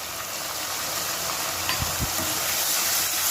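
Onion frying with mint, coriander, green chilli paste and ginger-garlic paste for mutton curry gives a steady close sizzle, broken by a couple of soft spoon knocks against the pan.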